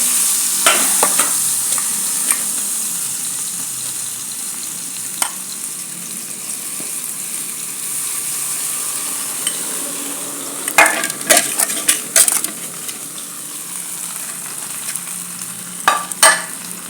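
Mango pieces for pickle frying in a little oil in a pan, a constant soft sizzle running throughout, with occasional sharp clinks and scrapes of the stirring spoon against the pan, close up and without talk.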